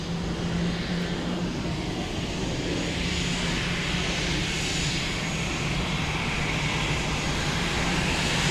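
An Emirates jet airliner landing at Dublin Airport in murky, windy weather, a loud continuous engine roar at steady level throughout with no break or fade.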